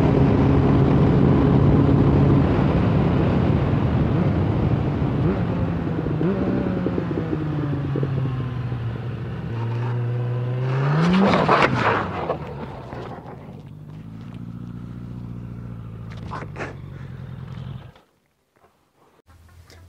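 Motorcycle engine and wind roar inside a rider's helmet on a public road, a steady droning rumble with rising and falling revs, a sharp surge near the middle, then a sudden cutoff to near silence at the end.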